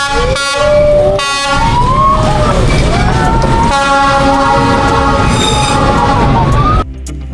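A train rolls through Train Street in Hanoi, loud and close, with repeated horn blasts and screeching metallic tones over a rumbling pass before it cuts off abruptly.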